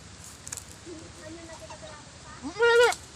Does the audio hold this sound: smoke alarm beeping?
no